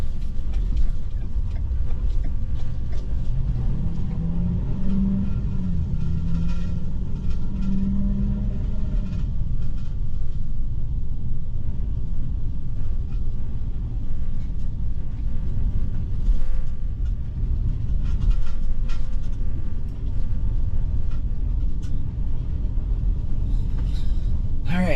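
A Ford E450 RV on new tires rolling along a road, a steady low rumble of engine and road noise lasting throughout, with faint talk in the cabin at times.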